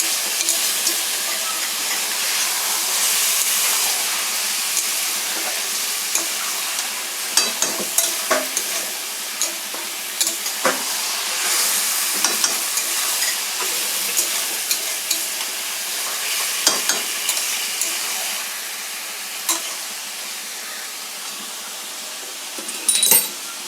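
Lote fish frying in a pan gives a continuous loud hiss and sizzle, with occasional spatula scrapes and clicks as the pieces are stirred, no voices.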